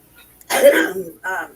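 A single harsh cough followed by a shorter second cough, loud and close, with no words spoken.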